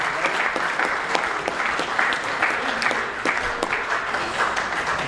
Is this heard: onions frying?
no